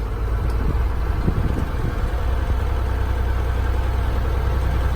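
A truck engine runs steadily at low idle to build up air brake pressure, a continuous low rumble with a constant drone and no talk over it.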